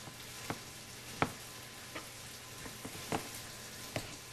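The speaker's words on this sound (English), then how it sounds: "Your chicken sounds like it's almost done because it's sizzling and I can smell it." Chicken frying in a pan gives a faint, steady sizzle with scattered soft pops and crackles at irregular intervals. No voices are heard.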